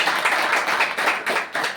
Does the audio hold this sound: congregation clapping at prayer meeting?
yes